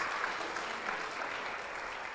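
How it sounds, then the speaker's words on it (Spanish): A church congregation claps loudly for the fathers present, a steady, dense wash of applause filling the whole moment without a break. "Quiero que aplaudamos a los padres que están hoy aquí fuertemente"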